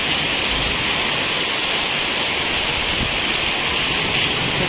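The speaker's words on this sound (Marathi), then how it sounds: "तुफान पाऊस चालू आहे गाईज" Heavy rain pours down in a dense, constant hiss, loud and unbroken throughout.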